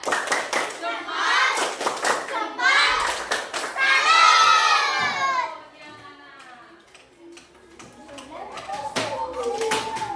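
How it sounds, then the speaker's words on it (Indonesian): Schoolchildren in a classroom perform a rhythmic clapping routine called tepuk sambut, with sharp, regular hand claps and group voices chanting along, followed by a quieter stretch of children's voices and scattered taps. "Tepuk sambut."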